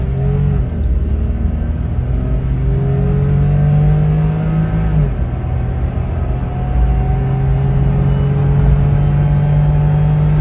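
Honda Z kei car accelerating at full throttle, its small engine droning loud and close from inside the cabin, rising in pitch, easing briefly at a gear change, then climbing again.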